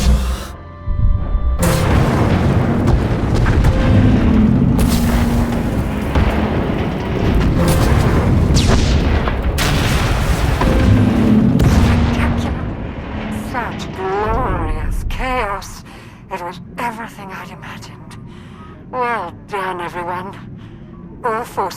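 Heavy booming explosions and rumbling blasts as a failsafe fires in the Star Wars: The Old Republic game, loud and sustained for several seconds, then fading into scattered electronic effects and clatter with voices speaking over it.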